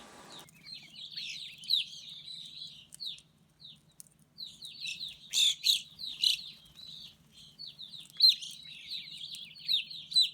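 Backyard birds, grosbeaks among them, chirp in bursts of bright tweets and trills that come and go over several seconds, fairly close, with a faint low hum underneath and no talking.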